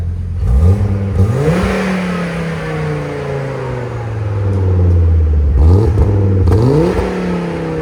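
A 1996 Volvo 850R 2.3L five-cylinder turbo engine revs up several times through a turbo-back exhaust, rising and falling in pitch with a throaty exhaust tone, loud and close.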